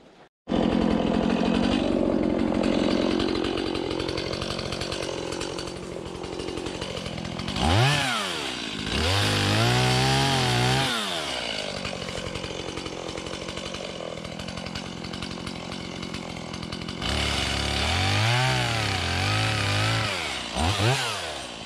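A Stihl MS170 chainsaw cutting wood while clearing a new section of trail, the engine running loud and steady throughout with repeated rising and falling revs as it bogs into cuts and frees up again.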